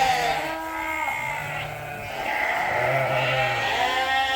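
Sheep bleat repeatedly as a flock is herded through a barn, several overlapping calls near and loud over a steady background din.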